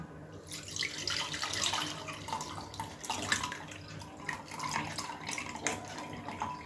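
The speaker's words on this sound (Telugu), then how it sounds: "ఇప్పుడు ఏం చేయాలంటే మొత్తం వాటర్ మొత్తం తీసేయాలన్నమాట నేను చూడండి జల్లెడతో అయితే తీసేస్తున్నా" Whey from curdled milk pours and trickles through a sieve, a steady splashing, dripping stream of liquid heard close and fairly quiet, with no voices.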